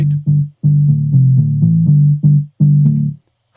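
A synth line in Cubase passing through a low-pass filter that gradually opens, a run of sustained bass-heavy notes with a buzzy, distorted edge brightening over time, loud and alone before stopping.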